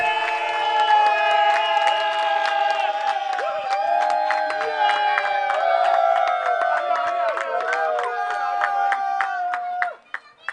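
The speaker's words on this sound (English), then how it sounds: "Can we have a round of applause," A crowd at a prize distribution ceremony cheers, whoops and claps loudly and steadily for about ten seconds, with voices shouting over the noise, before it suddenly drops off at the end.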